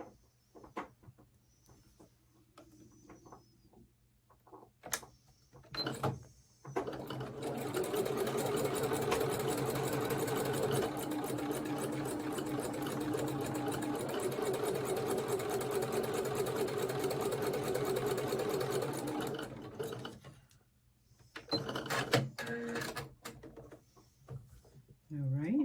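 Domestic sewing machine stitching snail trail quilt block pieces, a fast steady whirring run of about thirteen seconds, framed by quiet handling clicks and brief talk before and after.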